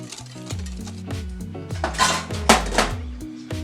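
Cake batter with coffee and oil being mixed in a bowl, a spoon or whisk clinking and scraping against the sides in quick repeated strokes, close and fairly loud with no talking.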